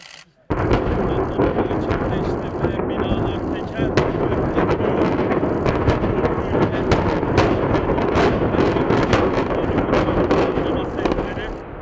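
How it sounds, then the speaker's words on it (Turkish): Nine 15-storey apartment blocks are brought down by explosive demolition, a sudden blast followed by a long, loud rolling rumble of crackling detonations and collapsing debris, heard from a distance with wind buffeting and voices in the crowd. "Şu anda görmüş olduğunuz gibi patlama yıkımı gerçekleştirildi."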